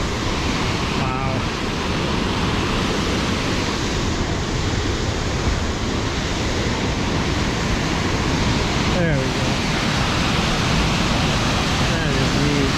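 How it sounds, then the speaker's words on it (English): Sol Duc Falls in Olympic National Park, Washington, roars as a steady, loud waterfall rush that fills the whole scene, with someone speaking briefly over the constant noise of falling water. "Probably the coolest waterfall I've ever seen in Washington"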